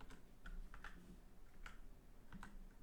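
Quiet computer keyboard typing as an IP address is entered into a browser, a scattered run of soft clicking keystrokes at close range with no talking.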